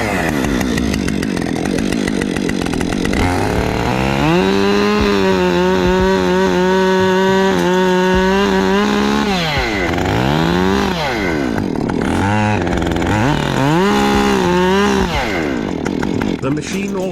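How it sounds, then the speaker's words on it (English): Husqvarna 365 chainsaw felling a large tree, its engine running loud and close with a strong steady drone that rises and falls in pitch as the throttle is worked through the cut. "The Husqvarna 365 is a powerful chainsaw, designed for large tree felling jobs."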